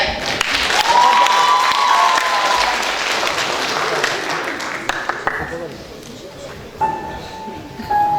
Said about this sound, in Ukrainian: Отже, Матвійчик Наталя, оплески!